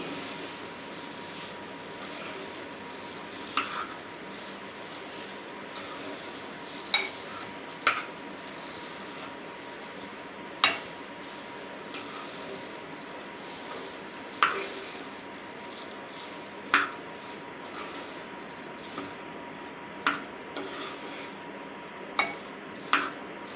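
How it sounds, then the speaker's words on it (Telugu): A ladle clinks against a pot at intervals while pudina rice is mixed with its ingredients, a dozen or so sharp metallic taps over a quiet, faintly hissing kitchen background. "ఇప్పుడు ఈ ఇంగ్రీడియంట్స్ అన్నీ రైస్కి పట్టేలా ఇలా గరిటతో వీడియోలో చూపిస్తున్నట్లు కలుపుకోవాలి"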